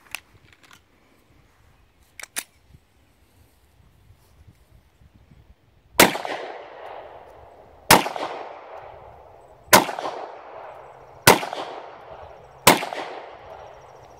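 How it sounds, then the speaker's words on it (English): Five sharp, loud gunshots ring out at target practice, spaced about two seconds apart, each with a short echoing decay, after a few faint clicks of handling. "Gary, why don't you go ahead and take a shot"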